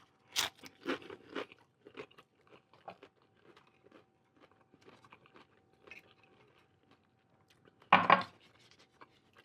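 Nacho shell crunching as it scoops up a burrito bowl, a few close crisp bursts of crackling at the start, quiet small rustles and chewing through the middle, then one loud crunch near the end, with no talking.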